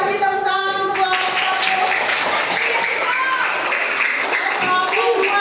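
Classroom applause for a student group, lively clapping mixed with children's voices and chatter, continuous and fairly loud throughout.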